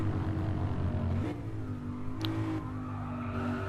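Lexus RC-F coupe on standard tyres, engine droning steadily and fairly faint from inside or near the car, with a brief high squeal partway through and no talking.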